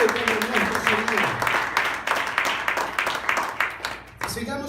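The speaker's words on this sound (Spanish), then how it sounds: "Denle un aplauso a Jesús, hermano." A church congregation applauds in a dense, sustained burst of clapping lasting several seconds, loud and close, with voices mixed in before it breaks off abruptly.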